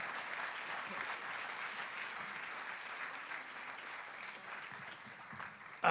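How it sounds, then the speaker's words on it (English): An audience at the EMC Symposium 2019 applauds the event crew, a steady wash of clapping from a crowd, moderately distant and sustained throughout. "another round of applause for our amazing crew this year"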